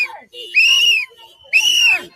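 A shrill whistle at a street protest in Minneapolis gives two long, loud blasts separated by a short gap, with faint crowd noise between them.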